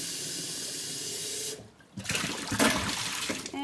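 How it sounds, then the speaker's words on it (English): Hot water runs from a tap onto milking equipment with a steady hiss and splash. It stops briefly, then resumes louder and more turbulent, close by, with no talk. "Turn it back onto hot water."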